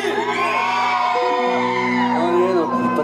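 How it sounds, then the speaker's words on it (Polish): Girls in a festival concert crowd in Leszno squeal and whoop in a loud, sustained, high-pitched chorus that swells and holds for a few seconds. "Słuchajcie, piszczą wszystkie dziewczyny!"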